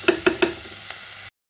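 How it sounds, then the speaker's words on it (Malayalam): Onions sauté with beef in a pan for a dry roast. A spoon knocks against the pan three times in quick succession, followed by one softer tap, all over a faint, steady sizzle. "ഈ ഉള്ളിയെല്ലാം കൂടെ നല്ലപോലെ ഒന്ന് വഴറ്റിയെടുക്കാം"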